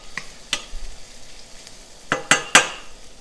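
Chopped garlic sweats gently in a pan for a porcini mushroom risotto, a soft steady sizzle with a few scattered utensil scrapes and three sharp clinks of a spoon against the pan near the end, no talking.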